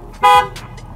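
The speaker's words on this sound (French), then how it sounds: "Déjà avec le klaxon." A short, loud blast from the horn of an Alpine A110 sports car sounds once, a bright, sustained tone standing clearly above quiet background noise.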